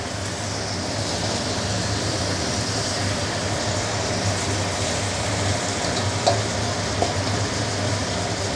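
Marinated mutton fries with softened onions in a pan, producing a steady, dense sizzle throughout with a couple of light clinks near the end.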